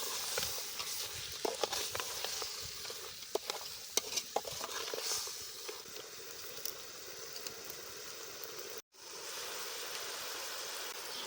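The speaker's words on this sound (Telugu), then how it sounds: "కూర అడుగంటకుండా మధ్య మధ్యలో కలుపుతూ చక్కగా నూనెలో మగ్గనివ్వాలి" Goat head curry frying in oil in a pot over a wood-fired stove, with a steady soft sizzle and irregular scraping stirs, fairly faint and close, plus a brief cut partway through.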